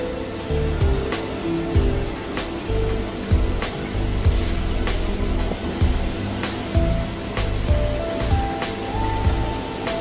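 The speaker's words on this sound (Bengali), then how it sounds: "এদিকে দেখেন উপর থেকে পানি পড়তেছে" Water falling from overhead inside Dubai's Dragon Mart shopping mall, a continuous splashing patter with sharp drops and clicks over a steady low indoor hum, with no one talking.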